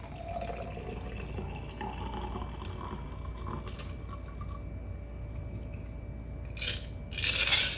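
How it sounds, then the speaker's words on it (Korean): A stirred cocktail is strained from a mixing glass into a serving glass. A soft, steady trickle of liquid runs throughout, with a few light clinks of ice near the end. No one speaks. "스트레이너를 끼우고 칠링된 얼음은 버려줍니다"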